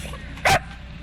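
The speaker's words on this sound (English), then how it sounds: "Puppies took over Forest Park in downtown Columbia this afternoon." A single short puppy bark rings out at an outdoor dog adoption event in Forest Park in Columbia, one sharp yelp above quiet open-air ambience.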